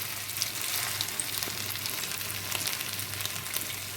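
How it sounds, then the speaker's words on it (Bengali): Potato pieces deep fry in hot oil, giving a dense, continuous crackling sizzle with scattered pops, steady and close throughout. "বাকি আলুগুলো এইভাবে ভেজে নিয়ে ফিরে আসছি।"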